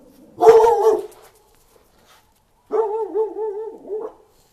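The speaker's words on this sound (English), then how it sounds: "Hear the coyotes over there barking?" Coyotes bark and yip in two separate outbursts, the second a wavering, howl-like call, with silence between.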